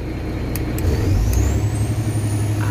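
A Kenworth truck's diesel engine rises steadily in a low, rumbling drone as cruise control takes over, loud and close inside the cab, with a few faint clicks and a thin whine above it.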